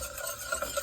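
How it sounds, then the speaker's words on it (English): A whisk scrapes rapidly and evenly through flour stirred into a vegan gumbo roux, a close, soft, continuous rasp with no voices. "I'm adding in just a little bit at a time and then whisking it again so that it won't clump"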